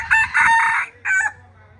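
A rooster crows loudly and close in two bursts, a long, strained call followed by a shorter clipped one, standing alone against quiet surroundings.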